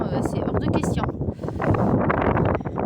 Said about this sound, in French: Ouais, ça souffle trop.